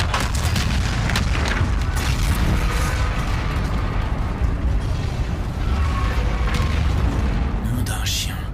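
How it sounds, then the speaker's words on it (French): A tower explosion in the video game Call of Duty: Infinite Warfare, heard as loud continuous rumbling booms and blasts that fill the whole stretch without a break. "Je voudrais un visuel sur l'explosion de la tour."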